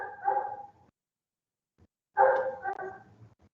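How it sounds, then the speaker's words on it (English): A dog barks in the background in two bursts, each a few sharp, moderately loud barks separated by a short silence, with no one talking over them. "I do apologize for the dog barking in the background if you can hear that."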